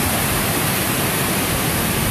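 A waterfall below Lower Palisade on the John Muir Trail roars in a steady, dense, unbroken rush, loud and close with no other sounds standing out.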